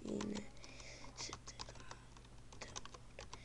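Someone typing a command on a computer keyboard, a quick run of close, crisp key clicks in an uneven rhythm over a low steady hum.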